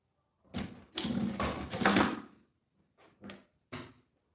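Sewing machine stitching the folded edges of a thermal lunch box: two longer whirring runs followed by a few short separate bursts, close and fairly loud, with no voices.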